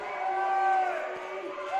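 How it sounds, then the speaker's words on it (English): Whitman home crowd at a college volleyball match reacting to an out-of-bounds call, a sustained loud crowd murmur with rising shouts and whoops, under an announcer's voice. "The Whitman crowd does not like it"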